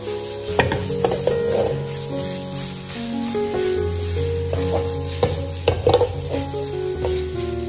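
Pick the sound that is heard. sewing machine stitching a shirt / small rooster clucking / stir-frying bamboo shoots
stir-frying bamboo shoots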